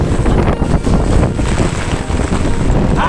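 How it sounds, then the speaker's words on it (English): Strong wind blows outdoors in Jamaica, buffeting the microphone with loud, continuous roaring gusts that swell and dip throughout, with no voices over it. "It's windy out"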